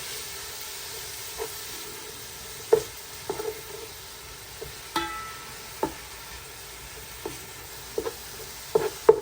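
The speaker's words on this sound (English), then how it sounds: "we need to saute them till they go slightly lightly brown" Onions sautéing in a pan for chicken macaroni, a soft steady sizzle with irregular clinks and scrapes of a utensil as they are stirred, no talking.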